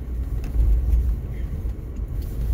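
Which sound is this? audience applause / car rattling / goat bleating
car rattling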